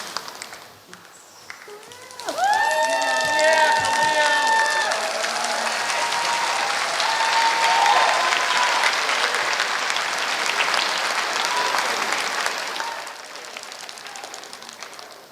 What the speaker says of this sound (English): Let's give the graduates another round of applause